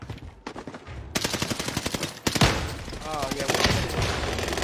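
Rapid shotgun blasts from an online shooter game crack repeatedly in dense bursts, loud and close, while someone talks over the gunfire.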